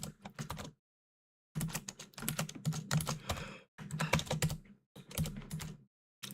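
Quick bursts of clattering keystrokes on a computer keyboard, close and fairly quiet, in several runs separated by short pauses.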